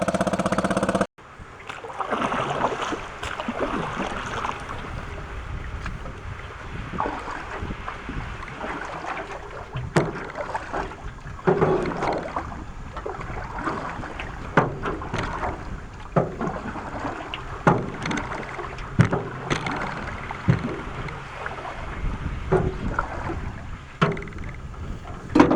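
A barn-find 1949 Atlas Royal outboard motor drives a small boat across a lake, its steady engine drone mixed with wind buffeting the microphone and water splashing, loud and close throughout.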